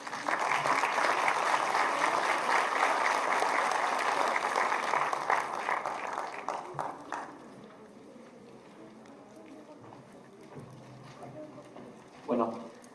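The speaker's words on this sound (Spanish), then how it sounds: "Un aplauso, por favor." An audience at an agroindustrial symposium applauds strongly for several seconds before the clapping thins and fades out, leaving only scattered room noise.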